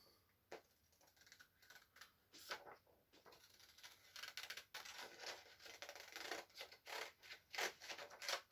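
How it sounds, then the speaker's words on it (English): Repeated crisp snips of scissors cutting, irregular and close, quiet at first and growing busier, with no talk. "I'm using scissors rather than a knife, just because it's a bit quicker."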